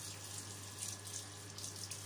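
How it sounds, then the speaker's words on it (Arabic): Water runs steadily from a kitchen sink tap onto dates held in a strainer, a constant close splashing hiss with no speech. "حطيت البلح جواها وافتح الحنفية وامسك بقى واحدة واحدة اهو تحت المية"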